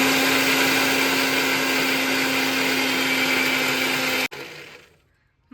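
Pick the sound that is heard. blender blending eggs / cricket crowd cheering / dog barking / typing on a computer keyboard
blender blending eggs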